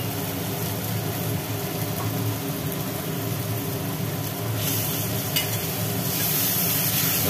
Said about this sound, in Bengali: এবার মশলাটা কষুক।